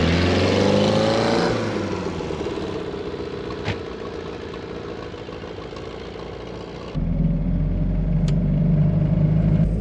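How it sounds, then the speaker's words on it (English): A 1969 Mazda Carol pulls away in first gear, its small engine droning steadily near the microphone, then the tone drops and thickens as it settles into a lower, heavier rumble. "All right, driving the Mazda Carol."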